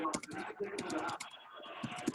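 Soft, rapid keyboard typing clicks away faintly in the background of an online training call, mixed with low room noise and distant sound.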